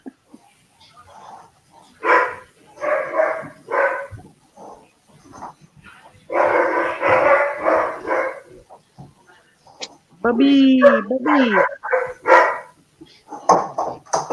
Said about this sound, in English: That bark sounds so weird over that mic.